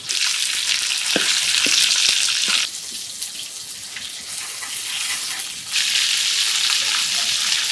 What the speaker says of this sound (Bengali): মাছের এক পাশ ভাজা হয়েছে এখন উল্টাই দেবো